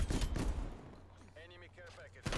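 The Streetsweeper shotgun in Black Ops Cold War fires a few loud close blasts, one at the start and another at the end, with a voice talking between them.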